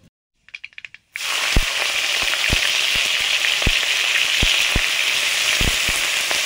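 Panch phoron spices hit hot mustard oil with a sudden loud, steady sizzle after a second of quiet, with sharp pops and crackles scattered throughout.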